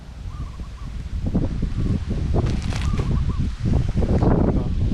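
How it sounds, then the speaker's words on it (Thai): Strong wind buffets and roars against the microphone in heavy gusts, with rustling throughout and no voices. "มันวันนี้อากาศลมแรงเลยครับ ลมแรง"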